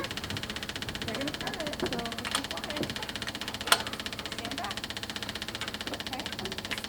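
A 1967 Ford Mustang, a one-owner barn find starting for the first time in ten years, cranks and runs with a steady, rough engine drone throughout, a sharp knock near the middle, with people talking over it.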